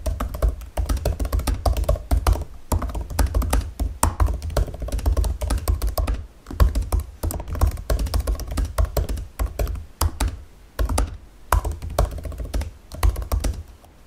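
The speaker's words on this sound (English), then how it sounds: "So please enjoy some keyboard ASMR." Typing on the built-in Magic Keyboard of an M1 MacBook Air, fast close-up clicks and taps in rapid bursts with brief pauses, soft thuddy keystrokes alone without talk.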